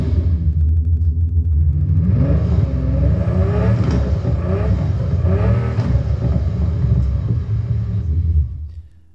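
A standard-version V12 engine revs loudly and steadily, with a dense low rumble and rising, falling pitch sweeps as it is blipped several times before cutting off at the end.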